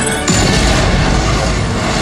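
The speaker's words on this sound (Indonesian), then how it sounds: "tiba-tiba mobil musuh itu meledak" Enemy car exploding in the Thunderbolts film, a sudden loud blast that cuts in after a brief moment and trails into a dense rumbling crash and debris noise.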